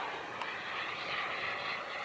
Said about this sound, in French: Donc là, on a cassé la vitesse de l'avion.